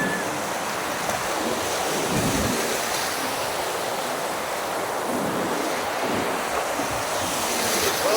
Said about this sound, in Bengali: আমরা শুধু সমুদ্রের ঢেউ দেখছি, সমুদ্রের ঢেউয়ে আমরা উদ্বেলিত হচ্ছি